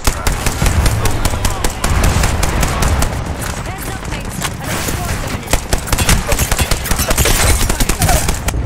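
Dense automatic gunfire from an Apex Legends match rattles almost nonstop in loud rapid bursts, with a character's voice speaking over the shooting.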